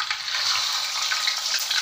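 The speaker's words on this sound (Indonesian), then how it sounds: "Kita siap goreng ikan lema." Lema fish fries in hot oil, giving a dense, continuous crackling sizzle with small popping bursts, steady and close throughout, no voices.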